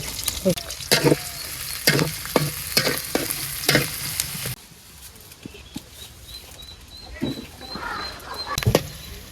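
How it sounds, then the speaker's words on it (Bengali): Onion, green chili and garlic hit hot oil with a burst of sizzling, as a spoon scrapes and stirs in rhythmic strokes. It settles into a quieter fry with scattered pops and a faint high whine near the end. "তেলটা গরম হয়ে গেছে, পেঁয়াজ দিয়ে দিই, দিয়ে দিলাম কাঁচামরিচ, অল্প একটু রসুন দিলাম।"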